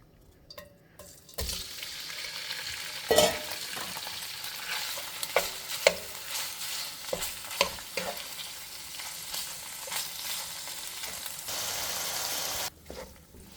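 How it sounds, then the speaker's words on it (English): Beef sizzling and frying in a pot for Persian gheymeh stew with split chickpeas, a steady hiss broken by repeated stirring scrapes and clinks, close and fairly loud throughout. "So now it is time to saute our beef."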